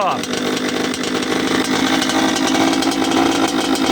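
A cold-started Kawasaki KX 85 two-stroke motocross bike, run on 1:40 premix oil, buzzes loudly and steadily at close range, its raspy engine note holding continuously without a pause.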